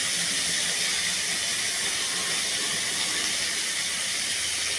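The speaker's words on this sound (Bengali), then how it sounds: "যার জন্য হচ্ছে এই মশলাটা কষাবো আমি।" Masala frying for paneer bahar, a steady dense sizzle and hiss from the hot pan, continuous and close with no speech over it.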